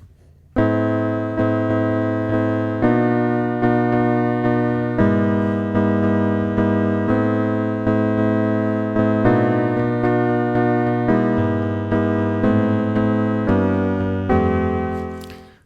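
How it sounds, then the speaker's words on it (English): A Casio Casiotone 405 electric piano preset plays a slow sequence of sustained chords and notes, bright and bell-like, each ringing into the next. "here's a really nice sound, the electric piano"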